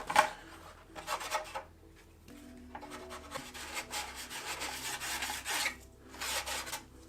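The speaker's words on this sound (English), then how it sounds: "You're going to need to sand the inside of that edge and the back side of that body." Sandpaper rasps along the inside edge of a primed 1/10-scale Ford Bronco RC hard body in rhythmic bursts of scratchy rubbing, each lasting about a second, close up and alone.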